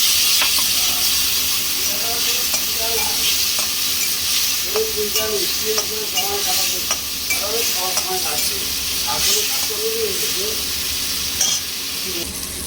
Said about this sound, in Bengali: এখানে জিরা, লঙ্কা আর হলুদ এখানে করে রেখেছিলাম, এটাকে ছেড়ে দিলাম।